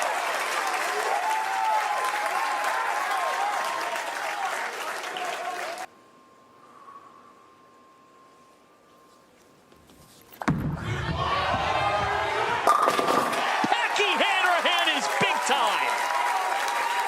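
Crowd cheering and applauding at a baseball game in Allen Park. Broadcast commentators talk over it. A stretch of near silence follows, then a sudden loud surge of cheers and claps with a few thumps.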